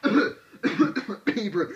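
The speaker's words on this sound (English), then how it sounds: "Sorry, I have sort of a bit of a cough." Three bursts of harsh, throaty coughing, close by and fairly loud, separated by brief pauses.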